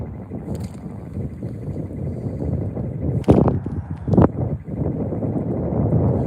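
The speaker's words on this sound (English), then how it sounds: "Wind's starting to kick up again." Wind gusting over a trout stream outdoors in winter, a steady loud roar battering the microphone, with a couple of sharp knocks partway through.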